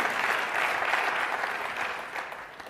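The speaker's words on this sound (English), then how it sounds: "one round of applause for all the Symposium staff" An audience applauds the symposium staff at a connected health symposium, a steady round of clapping from a room full of people that holds strong and then eases slightly toward the end.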